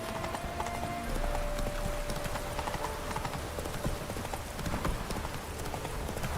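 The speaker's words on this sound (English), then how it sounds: "We're riding a horse" A horse's hooves clip-clop at a steady riding pace in The Witcher 3: Wild Hunt, set in rainy weather, the rhythmic hoofbeats sounding over a continuous hiss of rain.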